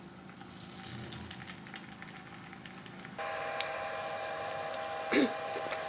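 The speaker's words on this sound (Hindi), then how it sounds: "इस तरह से फ्राई करना है, फ्राई पैन में डाल के।" Chicken pieces frying in a frying pan, a steady hiss and sizzle that grows louder about halfway through, with a brief clatter near the end.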